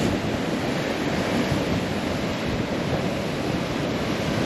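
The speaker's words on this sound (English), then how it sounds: "the sea is right beneath me." Sea surf washing against rocks far below a high coastal lookout at Grotto Bay, a steady broad roar of waves mixed with wind buffeting the microphone, continuous and fairly loud with no talk.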